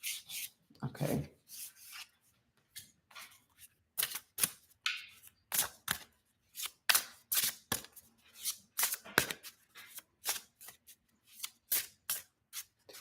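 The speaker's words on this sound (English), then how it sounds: "As I'm shuffling" Cards shuffled by hand during a card-reading session, a series of short crisp riffling bursts and rubbing shuffles in an irregular rhythm, close and fairly quiet, with brief gaps between.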